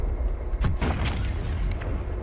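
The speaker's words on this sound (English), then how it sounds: "I figured we might as well just use the explosions for a time." Explosions in Duke Nukem 64 sound as a rapid run of booming blasts and pops over a constant low rumble, dense and loud, with no talking.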